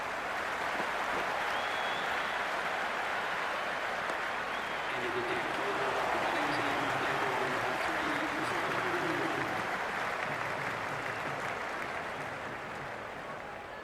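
Stadium crowd in the Cricket 26 video game keeps up a steady, dense roar of cheering and applause, swelling slightly midway and easing toward the end, with a commentator's voice faintly underneath.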